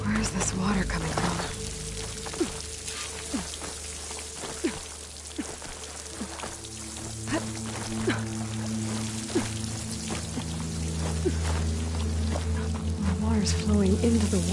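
Flowing water in a video game, near a waterfall and pouring into a hollow wall: a steady splashing, trickling stream under intermittent talk, with a low tonal drone in the background.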